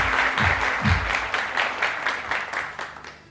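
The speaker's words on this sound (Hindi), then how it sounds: "ये आप लोगों के लिए तालियां" Brief burst of audience applause at a gathering, a scattering of claps fading out over a few seconds with low voices underneath.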